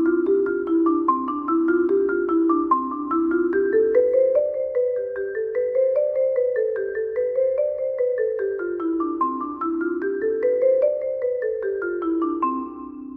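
A marimba plays a G five-note scale exercise in steady single strokes, rising and falling through repeated patterns, moderately loud and alone.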